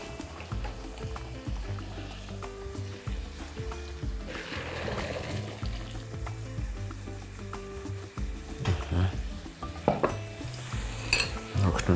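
A silicone spatula stirs drained pasta in a pan, giving soft scraping and squelching strokes in an irregular rhythm with light sizzling, close and fairly quiet.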